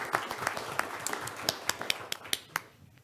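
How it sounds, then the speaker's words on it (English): Sparse, scattered claps from an audience at a school board meeting, a few individual hand claps rising out of a low murmur of room noise rather than full sustained applause, fading out quickly. "So let's give them one more round of applause."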